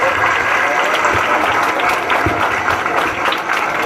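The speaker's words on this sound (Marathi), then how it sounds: "त्यांच्यासाठी एकदा टाळ्या वाजवल्या पाहिजे." An audience claps loudly and continuously at an outdoor school annual sports festival, a dense, even wash of applause with no pauses.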